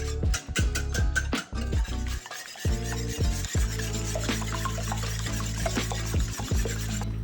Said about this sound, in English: Add 1 to 2 tablespoons of sugar and whisk it into your eggs.